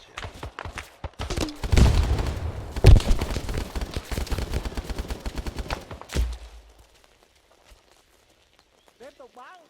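Bursts of rifle gunfire rattle through a cavalry platoon training exercise, loud and rapid for about six seconds with thumps and footsteps among them, then fading out to near silence.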